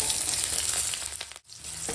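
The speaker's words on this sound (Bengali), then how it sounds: "ওই মাছ ভাজার তেলেই এখন দেবো তেজপাতা গোটা দিয়ে আর দিয়ে দেবো চিড়ে রাখা কাঁচা লঙ্কা" Whole bay leaf and slit green chilies sizzling in oil left from frying fish, a dense continuous hiss up close that briefly drops out near the end before resuming, no voices.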